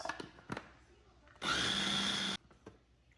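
A blender mixing tomatoes whirs loudly in one steady burst of about a second, with faint clicks and handling noises before and after.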